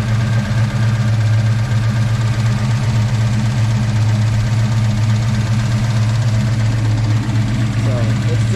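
A 1961 Ford Falcon's 5.0L small-block V8 idles steadily with Holley Sniper fuel injection, a loud, constant low rumble with a fine ticking texture running through it for the whole stretch.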